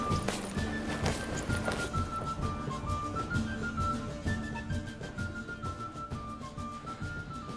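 Horse hooves from The Witcher 3 clop in a steady, busy rhythm under a dense in-game soundscape with music, the galloping loud and continuous throughout.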